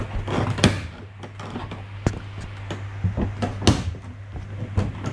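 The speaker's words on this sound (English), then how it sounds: "I tried to pry this off with just a screwdriver." Screwdriver prying metal ceiling trim loose from its clips inside a Toyota Coaster bus conversion, giving a series of sharp scraping clicks and snaps at irregular intervals over a steady low hum.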